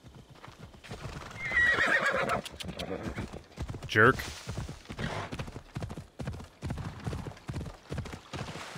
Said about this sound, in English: Horse, get over here.